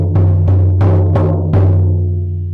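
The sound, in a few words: shamanic drum being beaten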